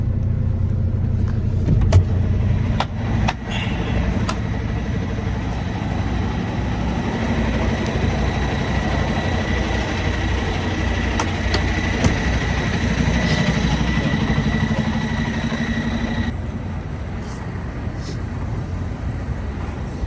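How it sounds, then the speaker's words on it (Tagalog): Road vehicles idle and rumble at a truck stop near Headingley, Canada, a steady low engine drone running throughout with occasional clanks and passing motor noise, no clear talk. "Dito tayo sa truck stop."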